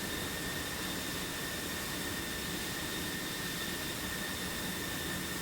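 F-16 and J-11 jet engines in a flight combat video game produce a steady, loud roar with a constant high whine running through it, unchanging for several seconds and with no talk.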